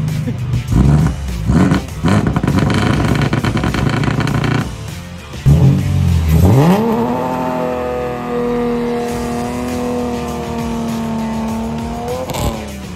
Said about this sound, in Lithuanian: išvažiavom, biškį prabrėžėm, kelis kartus ratus prasukau, bet nėra stabdžių